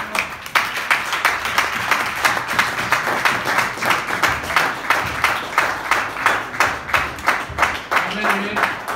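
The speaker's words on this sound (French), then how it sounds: "Applaudissez pour Jésus élevé." A church congregation claps for Jesus in steady, rhythmic bursts, loud and close, with a lively pulse that keeps going throughout.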